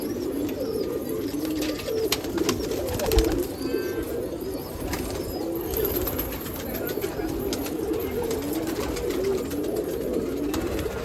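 Banarasi pigeons kept for breeding with their chicks coo steadily in a loft at a pigeon festival in Nashik, soft overlapping calls over low background noise with a few faint chirps.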